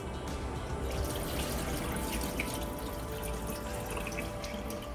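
Running water splashing and trickling steadily, with small drips and wet swishing as rice is rinsed in a bowl.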